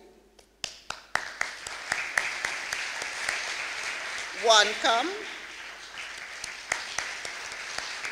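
An audience at a telecom conference's opening ceremony claps for sponsors in a loose, uneven round of individual claps. A speaker's voice cuts through midway, and sparse clapping continues afterward.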